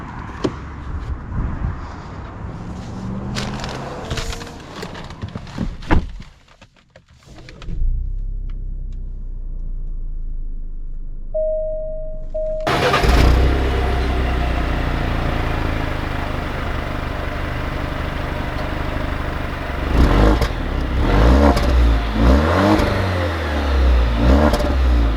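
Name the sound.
2020 Alfa Romeo Giulia Sport engine starting and accelerating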